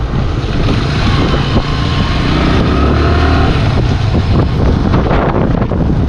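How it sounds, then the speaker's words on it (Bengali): Riding a motorbike through light drizzle on wet roads, with a loud, constant roar of wind buffeting the microphone and a low engine-and-road rumble beneath, unbroken for the whole stretch. "ভালোই ঝিরি ঝিরি বৃষ্টি হচ্ছে তো ওয়েদারটা খুবই সুন্দর বাইক চালায় মজা পাচ্ছি"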